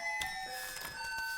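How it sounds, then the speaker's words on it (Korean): School bell chiming a ringing melodic electronic tone during a middle school science class, sustained bright notes sounding alone and clearly from nearby. "종소리 끝나면 시작하도록 하겠습니다."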